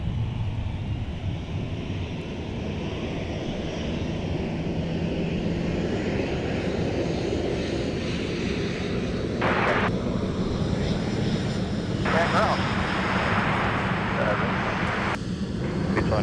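An airliner taxis on a taxiway at MSP airport in winter, its jet engines a steady, fairly loud roar that holds throughout, with faint radio chatter and talk mixed in.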